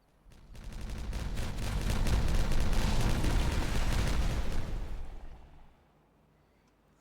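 Rapid chain of dynamite detonations in the colony-building game Timberborn, a dense rolling barrage of booms lasting several seconds, loud and close, then fading to quiet.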